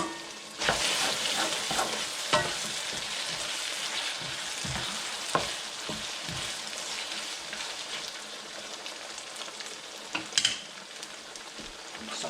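Potatoes and carrots fry in a pan for Filipino pork picadillo, with a dense, continuous sizzle and a few sharp clatters of a spatula stirring.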